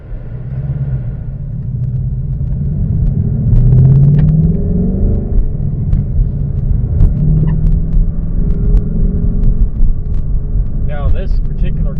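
A Ford Mustang GT with a mid-pipe delete and H-pipe exhaust idles with a deep, loud, continuous burbling rumble that swells in the middle, with a voice talking briefly over it.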